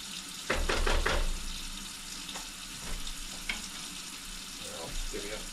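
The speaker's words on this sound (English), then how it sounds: "let me spoon and make sure we giving the onions a stir every once in a while" Onions frying gently over very low heat in a pot for chicken noodle soup, a soft steady sizzle with a few scraping stirs of a spoon near the start and quieter clinks later.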